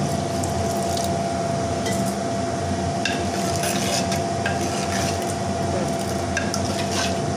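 A spoon stirs papaya sambar in a pot, soft scraping and liquid swishing over a steady background hum, with a few brief clinks; no voices.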